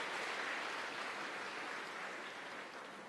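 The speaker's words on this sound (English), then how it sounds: "why are you clapping?" An audience at an IIT Madras talk claps, a faint, dense, even patter of many hands that carries steadily from start to finish.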